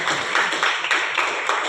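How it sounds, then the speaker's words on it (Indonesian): A school audience claps for prize-winning sixth-grade students at a graduation and farewell ceremony, steady broadband applause with rhythmic swells, filling the room without pause. "Kita beri tepuk tangan."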